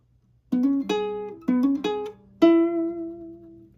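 A low G ukulele plays five strummed chords with a deep low bass string, the last chord left ringing out and fading, close and clean.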